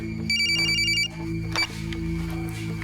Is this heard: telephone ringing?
yes